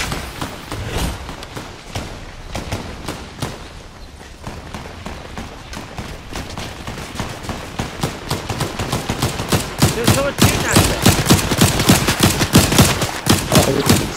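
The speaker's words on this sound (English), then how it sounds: "Someone shooting at ya?" Rapid bursts of video game gunfire from Fortnite, a dense run of sharp shots that grows louder and more continuous toward the end, with no talk over it.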